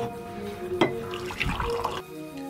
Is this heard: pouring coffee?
yes